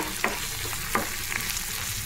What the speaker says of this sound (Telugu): కొంచెం అల్లం వెల్లుల్లి పేస్ట్ వేసుకొని కలుపుకోవాలండి